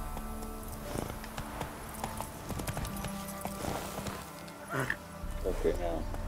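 Horse hooves clip-clop at a quick pace in The Witcher 3 video game, with steady rhythmic hoofbeats under game ambience and a brief whinny near the end, while a player talks over it.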